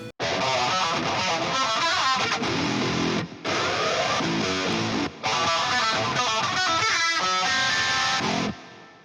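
Heavy distorted rhythm guitar from the Mixwave amp plugin chugs through tight palm-muted riffs and sustained chords, loud and continuous, with two brief stops.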